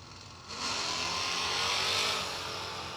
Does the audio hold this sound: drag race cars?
yes